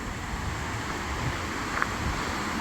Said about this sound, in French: Et il y a les cascades, la cascade du Bouchot, voilà, qui est juste ici.